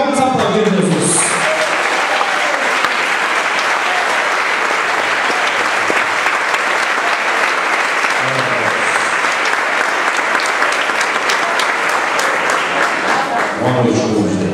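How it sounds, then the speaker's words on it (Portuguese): A church congregation stands and applauds at a regional communion service, sustained loud clapping filling the whole stretch with a crowd murmur beneath it. "Vamos ficar de pé, vamos aplaudir Jesus."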